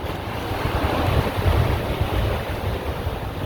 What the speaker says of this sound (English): listening to the waves, hearing the tarp above me flapping the wind